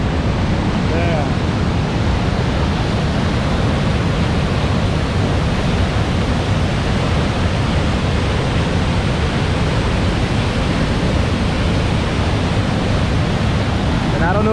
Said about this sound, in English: So that's the American Falls and Bridal Veil Falls.